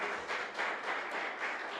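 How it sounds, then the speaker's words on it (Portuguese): A church congregation at a worship service applauds together, a continuous wash of many hands clapping with a gently pulsing rhythm, steady and moderately distant. "Vamos aplaudir o Senhor na vida deles"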